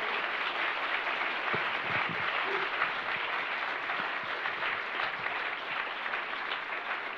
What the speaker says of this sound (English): Please join me in applauding this wonderful panel for their contribution